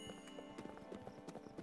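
A sheep running in a video game gives quick, light hoof-like clip-clop steps in an irregular patter, with a faint voice murmuring underneath at times.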